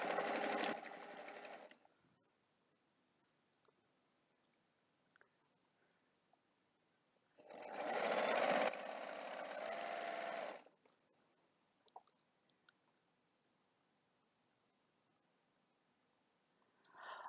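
An embroidery machine in a home craft workshop stitches in two loud, steady bursts of rapid mechanical whirring, each a few seconds long, separated by quiet gaps with small clicks.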